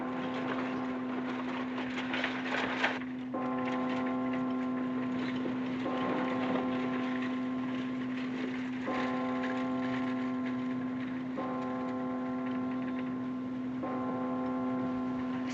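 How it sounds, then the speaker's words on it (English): A church bell in a small western town rings in slow, evenly spaced strokes at a distance, each ring holding a sustained tone over a constant low hum. "Something peaceful about a church bell, isn't there"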